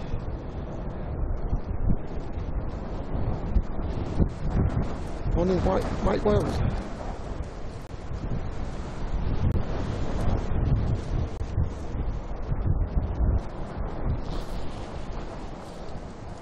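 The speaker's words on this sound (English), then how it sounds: "it's very windy." Gusty wind at Manchester Airport roars across the microphone in a continuous low rumble while a person speaks a few words partway through.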